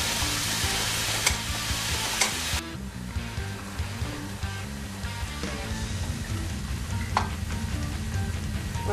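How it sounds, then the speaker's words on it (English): Ground beef sizzles in a pan with carrots and onions for a shepherd's pie, a steady loud frying hiss broken by scraping, stirring clicks as the meat is broken up. "I'm gonna cook my beef with the carrots and the onions."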